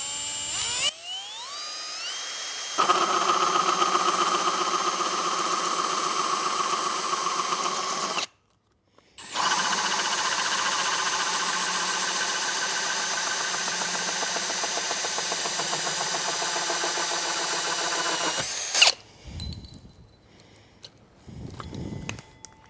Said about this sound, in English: this is where we're going to drill, right in this diamond